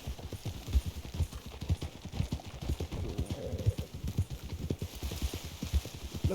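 Horse hooves clop steadily in Red Dead Redemption, a brisk, even trotting rhythm of close thudding hoofbeats that carries on without a break.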